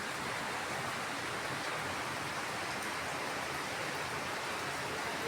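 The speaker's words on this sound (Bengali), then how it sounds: "আজকে সারাটা দিন এরকম বৃষ্টি প্রচুর বৃষ্টি" Heavy rain pours steadily onto a rooftop, a dense, even roar of falling water with no breaks, loud and constant throughout.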